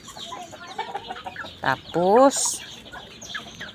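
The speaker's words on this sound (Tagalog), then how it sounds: "Ayan ang aking mga manok oh" Small backyard chickens cluck and give a short rising squawk nearby, scattered calls over quiet ambience, with a brief spoken word among them.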